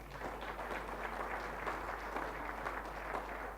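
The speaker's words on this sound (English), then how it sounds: "which all on its own deserves a round of applause" Applause from the audience at a Western Province chess awards ceremony, a steady, moderately distant wash of clapping over a low constant hum.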